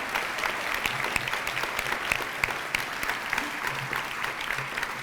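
Sustained audience applause fills a room at a community leadership summit in Vermont, steady dense clapping throughout with no speech over it.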